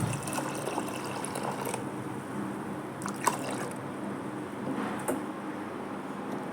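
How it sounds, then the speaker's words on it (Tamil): Water poured into a cooking pot of dal with turmeric, chili powder and cumin, a soft trickling splash followed by a few faint clinks of the pot in a quiet kitchen. "இதுக்கு தேவையான அளவு தண்ணி."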